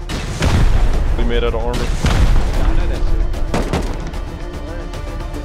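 Loud rocket blasts slam against a bunker in the survival game Rust, several booming impacts with rumbling tails over a dense din, while players talk over them.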